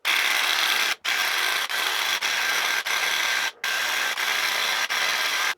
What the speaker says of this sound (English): Okay, so here's the sprayer. It's ready to go.